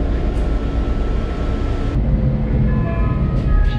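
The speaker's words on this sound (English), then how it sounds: "This is what it looks like on an old tram." Steady clattering rumble of an old tram rolling along its rails in Prague, with a continuous low mechanical drone and faint squeals, no voices.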